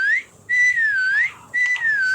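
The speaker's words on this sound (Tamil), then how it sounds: "நான் விசில் அடிச்சுட்டே இருக்கேன்" Whistling by a player in a Roblox game, two long melodic whistled phrases rising and falling, clear, loud and close, with a short gap between them and no speech.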